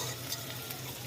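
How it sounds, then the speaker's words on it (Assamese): Finely chopped thin tomato slices frying in roasted spices in a pan, a faint steady sizzle with light stirring scrapes, close and quiet with no talk. "বিলাহীখিনি সিজি নাযায় তেতিয়ালৈকে মই অলপ ভাজি লৈছোঁ"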